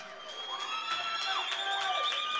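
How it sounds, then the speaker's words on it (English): An arena crowd at the XFC 42 mixed martial arts event cheers and whoops loudly for a birthday fighter, with sustained shouts and whistles layered over a dense roar. "a round of applause for the birthday boy"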